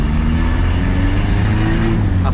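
A VW Gol Turbo engine revs up close and loud, a steady low growling drone that holds throughout without a break.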